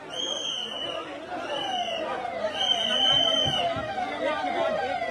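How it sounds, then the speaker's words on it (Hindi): Several ambulance sirens wail through a crowded Mahakumbh gathering, their rising and falling tones repeating steadily over a dense babble of people talking. "एक के बाद एक लगातार एम्बुलेंस आ रहा है"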